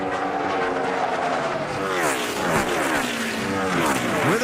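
NASCAR Cup Series stock cars roaring past on track, engines rising and falling in pitch as cars sweep by, a dense loud pack of motors with a commentator's voice faintly underneath.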